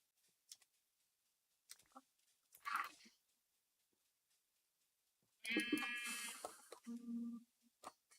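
Sheep bleating in a blocky video game, a few scattered clicks and short bleats followed by a loud, drawn-out bleat and a second shorter one, close and clear with no speech.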